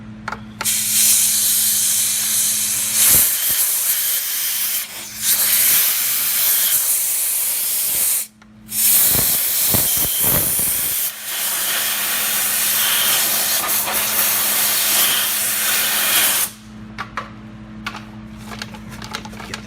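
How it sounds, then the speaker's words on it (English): Compressed air blasts dirt out of the sealing groove of a valve cover from a 3.5L EcoBoost Ford F-150, a loud, close, continuous hiss in several long bursts broken by brief pauses. "Tell you, compressed air is your friend here."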